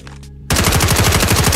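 After a brief quiet moment, a loud burst of rapid automatic gunfire in Call of Duty Mobile erupts and continues without pause, close and sharp.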